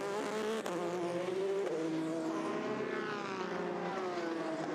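Race car engine at the Le Mans endurance race, the 3 car with used tires approaching the pits to serve a penalty; a steady, loud engine drone with a rising and falling pitch fills the whole stretch.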